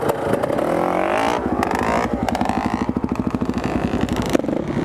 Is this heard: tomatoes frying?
no